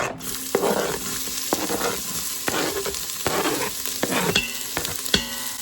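One whole small onion fries in oil in an Instant Pot on the saute setting, with a steady loud sizzle and crackle broken by repeated scraping stirs of a utensil against the pot.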